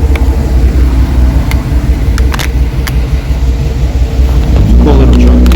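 A restored custom 1949 Chevrolet 3100 pickup idles close by, a steady low exhaust rumble with a loping pulse that swells slightly toward the end, alone without talk.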